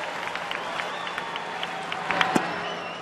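A sellout baseball crowd of 40,551 stands and applauds at an evening game, Anaheim at Detroit, a steady distant roar of clapping and cheers with a brief louder swell near the end.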